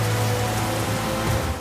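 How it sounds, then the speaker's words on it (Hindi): Heavy monsoon rain pours steadily during a Narmada flood in Madhya Pradesh, where a half-submerged temple stands with people stranded on its roof. The downpour forms a loud, dense, unbroken hiss with no voices. "झमाझम बारिश हो रही है"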